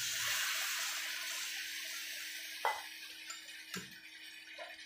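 Water poured into a pan of egg curry gives a soft, steady pouring hiss that fades slightly, followed by a couple of faint clinks or taps, quiet overall.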